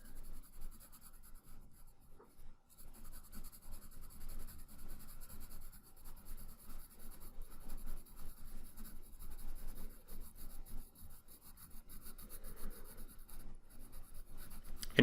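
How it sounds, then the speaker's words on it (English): Pencil lightly sketching on paper, a soft continuous scratchy rub of shading strokes, close and faint, with no talking. "So I'm going to lightly sketch in that midtone there."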